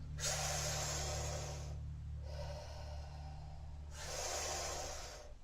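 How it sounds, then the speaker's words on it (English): Three sharp inhalations drawn through a funnel-shaped mouth produce airy hissing breaths, each lasting about a second or two, close and fairly quiet over a low steady hum. "so when we suck in, we're going to make a little sound like this"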